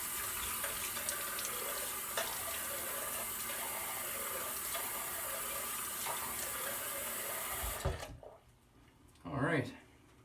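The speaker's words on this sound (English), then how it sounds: "So I'm going to quickly wet the face and we will apply this." Water from a tap runs steadily into a sink to wet the face before a traditional wet shave, then shuts off near the end, followed by a voice.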